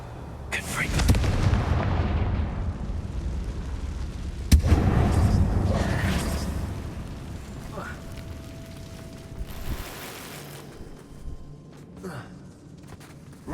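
A booming blast from the Confringo fire spell in Hogwarts Legacy, set in a closed mine: a deep explosive burst followed by a rumbling tail and a second sharp crack, with game voices and ambience around it.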